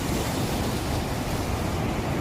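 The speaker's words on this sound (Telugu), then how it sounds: "సముద్రం కంటే దారుణంగా ఉంది చూడండి అలలు" Flood waves on the swollen Musi river at Amberpet surge in a steady, loud, continuous wash of water and wind roar, with no voices present.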